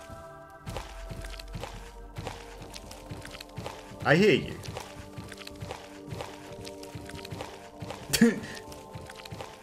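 Heavy footsteps of a zombie in a horror video game thud in a slow, uneven series of dull impacts against a low droning soundtrack, with a brief spoken line partway through.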